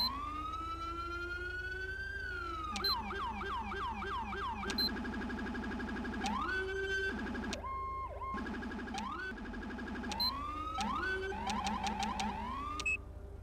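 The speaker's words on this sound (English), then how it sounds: "We get a nice like NYPD siren." A loud, close NYPD-style police siren in a video game cycles through patterns: a rising wail, rapid yelping sweeps, and fast warbling bursts, with no voices.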